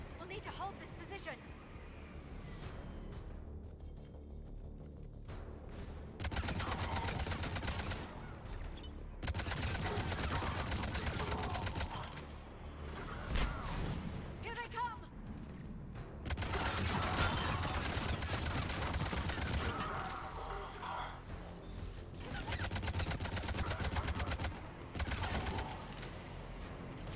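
In the video game Mass Effect 3, bursts of rapid gunfire with armor-piercing ammo rattle in repeated loud volleys separated by short gaps, amid battle noise and game voices.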